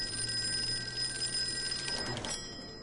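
A telephone rings in a PS4 detective video game, a steady electronic bell tone with bright sustained overtones that holds for about two seconds and then cuts off, heard fairly clearly over faint background.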